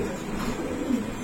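Two pigeons of the Giribaz or coloured fancy breeds coo softly, low murmuring calls running steadily through a brief moment close by.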